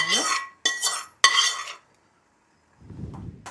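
Chicken biryani ingredients with coriander and oil being stirred in a pot, making three loud, close scraping bursts of a metal spoon against the pot, then silence and a faint low rustle at the end.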